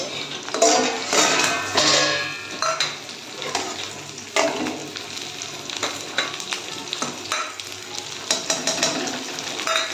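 Capsicum goes into browned onions in a frying pan, loud sizzling with frequent scraping and clinking of a spatula stirring against the pan.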